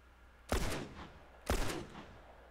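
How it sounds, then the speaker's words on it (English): Two loud gunshot bursts from a first-person shooter video game, about a second apart, each a sharp crack with a brief ringing tail over a low steady background hum. "You're shooting at him?"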